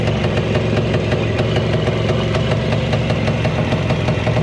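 A repaired Muravei motor scooter engine, its ignition timing and contact gap freshly set, runs at a steady idle with a dense, even mechanical chug and faint rhythmic knocking, close and loud with no voices.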